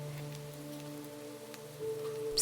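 Steady rain falls in a soft, continuous hiss that swells slightly toward the end, with a low sustained musical drone beneath it and no voices.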